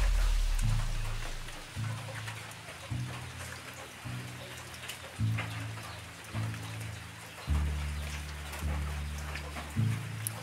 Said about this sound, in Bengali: বৃষ্টি হয়েই চলেছে।